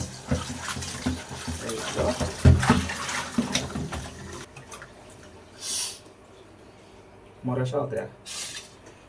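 Snail-dish ingredients being washed in water, with splashing and running-tap sounds under someone speaking, then quieter drips and a couple of short splashes near the end.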